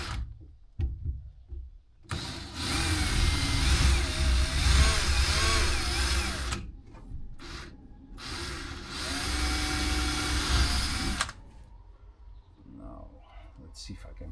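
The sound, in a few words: power drill drilling holes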